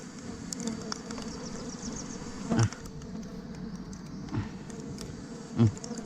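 Stingless bees buzz at an expanding hive, a continuous close insect drone with a few soft knocks or bumps now and then.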